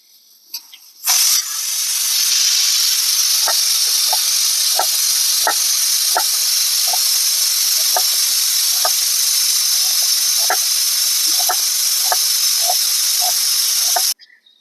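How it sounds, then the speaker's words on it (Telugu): A pressure cooker cooking chicken mandi lets out a loud, steady hiss of escaping steam that runs unbroken for about thirteen seconds, with faint regular rattling ticks underneath, then cuts off abruptly. "దాని తర్వాత ఒక 2 whistles వచ్చేదాకా ఉడికించేసుకుందాం"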